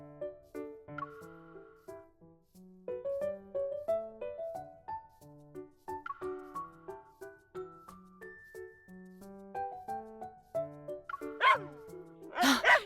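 Bit-a-Pup dogs in a video game yip and bark in cartoonish little bursts over a gentle melodic music track, with a louder noisy burst near the end.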